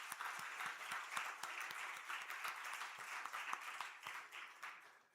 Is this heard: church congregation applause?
yes